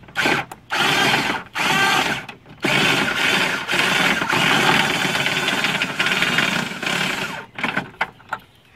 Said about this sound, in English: Put it on my drill here.